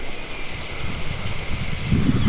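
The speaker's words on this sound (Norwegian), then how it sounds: "Det er iskald vind, nordavind." Icy north wind blowing over a forest landscape in Porsanger, a steady rushing hiss that buffets the microphone with low rumbling gusts, growing stronger toward the end, with no one speaking.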